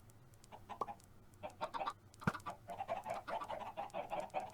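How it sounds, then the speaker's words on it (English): A video game chicken clucks in a run of short, bright clucks and bawks, sparse at first and then quicker and more continuous, with a sharp thump partway through. "Hello, chicken."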